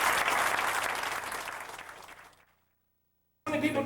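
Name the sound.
audience applause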